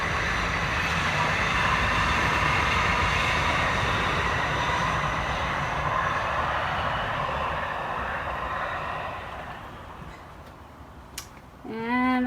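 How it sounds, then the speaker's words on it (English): Train rolling past behind a small cottage's backyard, a steady broad rumble that holds for several seconds and then fades as it moves away, with a brief sharper squeal near the end. "And here goes the train."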